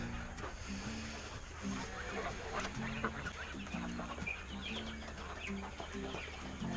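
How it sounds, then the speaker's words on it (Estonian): Hens in a poultry enclosure, including a white-breasted one, cluck in repeated short low notes against a busy background of other fowl calls and rustling. "Kana. See on kana. Ilus valge rinnaga kana."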